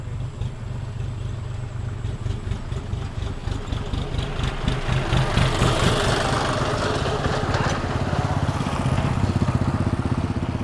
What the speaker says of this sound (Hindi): ट्रैक्टर आ रहा है